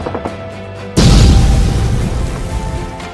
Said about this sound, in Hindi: अचानक आसमान में एक धमाका हुआ